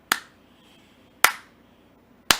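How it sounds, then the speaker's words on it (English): Three sharp, widely spaced claps ring out at a slow, deliberate pace, with quiet room noise between them. "Slow clap."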